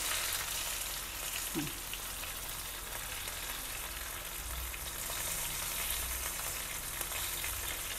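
Okra (ladies finger) masala fries in oil in a pan with a steady, soft hiss of sizzling that carries on without a break. No one speaks.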